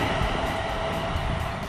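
A Siemens Class 350 Desiro electric multiple unit train running, a steady loud rumble with a thin tonal whine and rhythmic clicks, continuous and close throughout.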